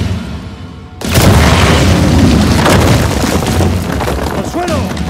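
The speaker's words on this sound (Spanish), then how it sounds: "¡Bomba va!" A grenade blast from the Uncharted 4 video game, a sudden loud boom that erupts after a second and rolls on as a sustained rumble, with game voices faintly underneath.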